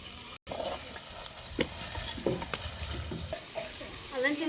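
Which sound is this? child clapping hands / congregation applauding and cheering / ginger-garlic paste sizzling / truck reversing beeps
ginger-garlic paste sizzling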